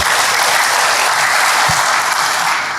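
Church congregation clapping for God during a sermon, a thick, steady burst of many hands applauding loudly without pause, easing slightly at the end.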